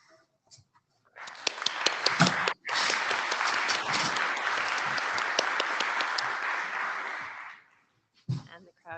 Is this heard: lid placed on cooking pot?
no